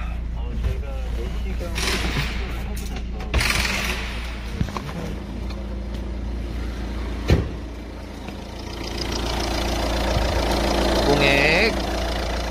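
A 1.6 e-HDi diesel engine idling in a 2016 vehicle, a steady low rumble running throughout beneath someone talking, with occasional clicks and knocks nearby.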